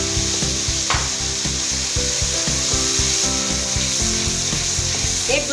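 Garlic and onion frying in a pan for a fish curry, giving a loud, steady sizzle with scraping stirring strokes throughout and no voices.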